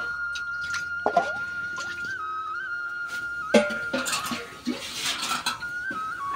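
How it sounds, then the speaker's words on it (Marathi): Water trickles and drips in a home kitchen while green chilies are rinsed for crispy chili bhaji, with small splashes and clinks of utensils against a steady high whine, up close and moderately loud, no talk. "बेसन पीठ काढून मिरच्या धुवून घेते"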